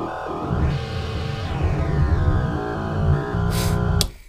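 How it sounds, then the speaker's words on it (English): A Bastl Kastle modular synth produces gritty phase-modulated noise, a dense buzzing drone that shifts and warbles over several seconds, with a brief hissy burst near the end before it stops. "This is phase modulation."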